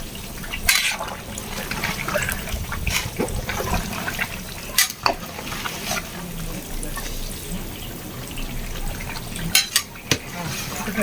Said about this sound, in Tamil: சிக்கன் வந்து பொரியல் நடக்க ஆரம்பிச்சிருச்சு